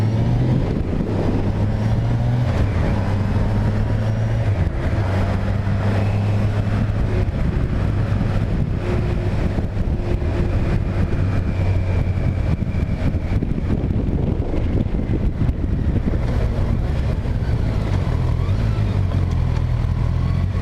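A Kawasaki Versys 1000 LT SE motorcycle on the road, its engine a steady low drone under heavy rushing wind noise, continuous and loud throughout with no talk.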